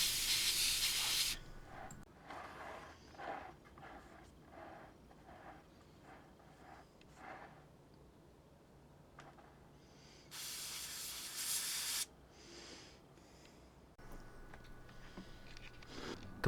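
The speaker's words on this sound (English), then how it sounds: "So I spray really lightly" An airbrush lays down Vallejo Model Air Interior Green paint on a Nurgle Plague Hulk model, giving short close hissing bursts with pauses between them and two louder, longer sprays near the end.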